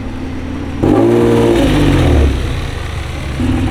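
Toyota Supra fitted with a kit, its engine revving in one loud, deep burst that swells and then settles back toward a rumbling idle, close by with no voices.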